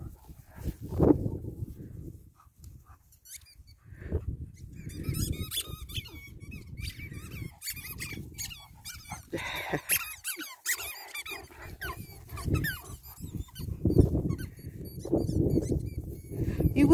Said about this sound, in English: You wouldn't think a squeaky ball would give them so much pleasure